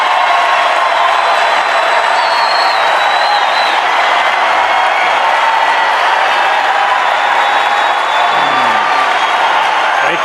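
A large convention crowd applauds and cheers for Clint Eastwood's speech, a dense, steady roar of clapping and voices that holds loud and unbroken throughout.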